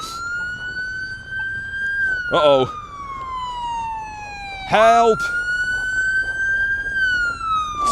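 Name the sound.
ambulance sirens passing close by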